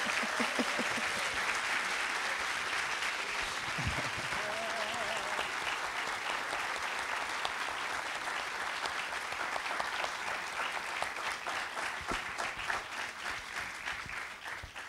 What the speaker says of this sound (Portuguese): Uma salva de palmas à Mary.